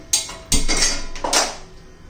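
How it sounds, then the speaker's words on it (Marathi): Several sharp metallic knocks and clatters of a flat iron griddle (tava) set down on a stovetop to heat, three distinct hits with a short scrape between. "तवा गरम करण्यासाठी ठेवूया."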